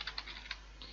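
Quiet, close keystrokes on a computer keyboard while entering network configuration commands, a handful of light taps at an uneven pace.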